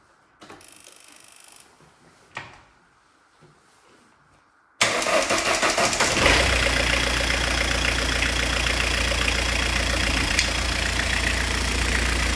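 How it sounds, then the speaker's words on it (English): A Ford Escort Mk6 Finesse is cold started with a key: a few faint clicks and a short crank, then the engine catches loudly and settles into a steady, close idle. "I'm going to go ahead and turn the key."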